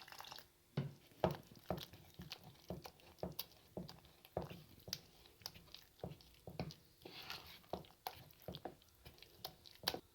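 Potato pakora batter being mixed with water into a thick paste, giving close, quiet, irregular wet squishing and slapping strokes in a continuous rhythm with no talk.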